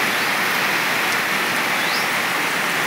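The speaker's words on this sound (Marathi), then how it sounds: "आणि पाऊस चालूच आहे" Steady rain falls in rural Maharashtra, a dense, even hiss that is loud and constant, with no talk.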